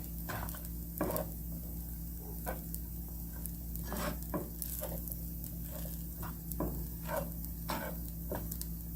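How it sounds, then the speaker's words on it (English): Onion flakes stirred into chickpea and chia seed fried rice with fresh vegetables, a low continuous sizzle under a steady hum, punctuated by repeated soft scraping stirs at an irregular pace. "and these are onion flakes. Okay, and we'll stir that in."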